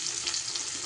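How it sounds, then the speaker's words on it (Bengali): Onions fry in a pan with a brief, steady sizzle, close and alone without talk. "এবার পেঁয়াজটাকে একটু ভেজে নিতে হবে।"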